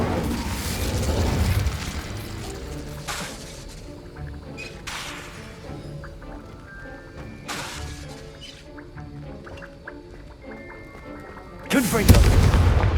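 A fire spell cast in the Hogwarts Legacy video game erupts in loud whooshing, booming bursts, with a heavy blast at the start and another near the end, layered over game music and ambient effects.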